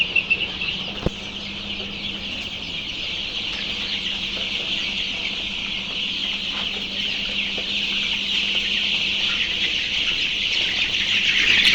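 Young Sonali chickens, about 22 days old, keep up a steady dense background of chirps and clucks from a flock, with a sharp knock near the start and no talking.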